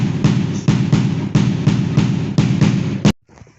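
Bass drum struck by a single drummer in a steady, evenly spaced pattern of booming hits, close and loud, ending abruptly.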